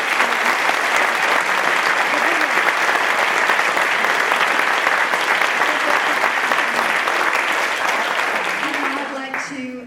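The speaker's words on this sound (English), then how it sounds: "Everybody, big round of applause." A large audience at a leadership and achievement evening with the Irish Taoiseach gives a long, loud round of applause that holds steady for several seconds and then tapers off, with a few voices emerging as it fades.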